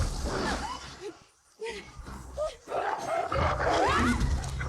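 Monstrous dogs in the TV series Stranger Things snarl and growl in harsh, loud bursts with roar-like tones, mixed with voices and chaotic scene noise.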